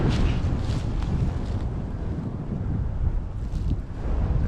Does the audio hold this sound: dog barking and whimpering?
no